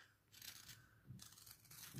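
Large, worn scissors snip through a finished diamond painting canvas in two quiet crunchy cuts, close and faint with no speech.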